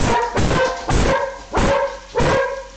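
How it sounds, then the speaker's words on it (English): A dog barks loudly five times in an uneven rhythm, close by, each bark sharp with a short tail. "that would be my dog."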